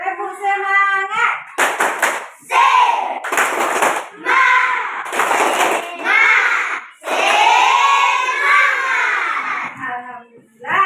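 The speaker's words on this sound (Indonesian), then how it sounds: "Yang lebih semangat, tepuk semangat." Schoolchildren in a fifth-grade classroom perform a rhythmic spirit clap, bursts of group clapping in patterned beats alternating with shouted chanting voices, loud and close.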